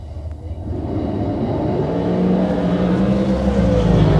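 A dragster runs at a bracket drag race, a sustained, loud engine roar with steady revving building in intensity throughout, no voices over it.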